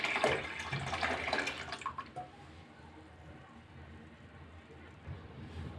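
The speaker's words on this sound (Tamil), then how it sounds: "நான் 1 லிட்ரு பால் சேர்க்குறேன்." A litre of pre-boiled milk pours into a pot of sago payasam, a steady liquid gush that is loudest at first and then settles into a softer, continuous bubbling trickle, close by.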